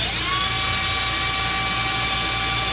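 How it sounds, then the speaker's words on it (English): A power driver spins out a screw from the chassis of an Arrma Limitless 3s RC car, giving a high, steady whine up close that rises quickly and holds for a couple of seconds before cutting off. "we're gonna take off one of the screws that's here"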